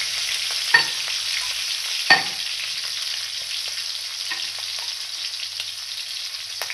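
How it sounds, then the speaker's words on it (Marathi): Crushed garlic and green chillies fry steadily in hot oil, a continuous close sizzle with two sharp stirring knocks early on and occasional softer scrapes. "लसूण थोडा खरपूस भाजून घेऊया"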